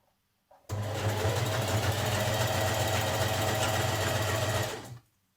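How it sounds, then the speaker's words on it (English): A sewing machine stitching a jersey top runs in one continuous burst of about four seconds, a steady close whirring hum with a fast mechanical needle rhythm that starts and stops abruptly, with no talking. "Pop it under your machine. And you're ready to start stitching."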